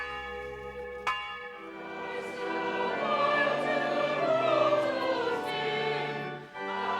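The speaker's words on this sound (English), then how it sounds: "It's Easter Sunday, and the bells of St. Peter's, rung by Puffin Taylor, summon the islanders" Church bells of St. Peter's on an island ring out on Easter Sunday, a steady, full peal of overlapping resonant tones that swells and lingers for several seconds, with no voices.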